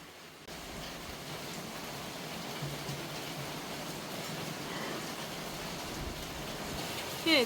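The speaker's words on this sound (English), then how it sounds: "Oh, it's raining already." Steady rain falling outdoors, an even hiss of moderate loudness that starts abruptly and holds unbroken for several seconds.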